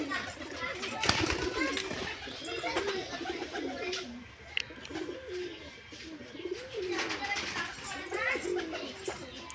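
Giribaj pigeons coo repeatedly in a series of throaty rising-and-falling calls, with people and children talking in the background.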